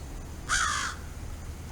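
A crow gives a single harsh caw, loud and fairly near, standing alone against quiet outdoor background noise.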